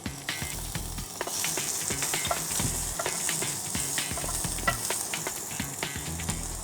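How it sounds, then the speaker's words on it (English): Garlic and ginger stir-frying in hot oil in a 1-liter saucepan over high heat, a steady close sizzle with scraping and clinking of the stirring utensil throughout. "I add the oil, add some garlic, and stir"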